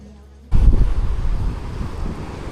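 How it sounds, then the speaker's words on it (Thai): Wind gusts suddenly roar across the microphone at a beach house beside the sea near Sattahip, a loud, rumbling buffet that starts abruptly after a quiet moment and keeps blowing. "จะมีลมนะครับ"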